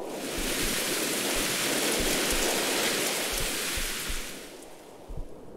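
A heavy rainstorm with dense, loud, steady rain and low rumbles underneath, easing toward the end.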